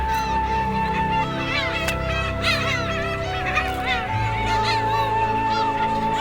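A black-tailed gull mother calls out to her chick on the island of Baengnyeongdo, giving repeated loud, nasal, honking cries close by, with other gulls calling in the background of the colony.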